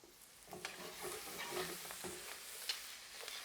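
Parsnips and other cut root vegetables sizzle in a hot pan, a soft, steady frying hiss broken by scraping stirs and a few light clicks, with no talking.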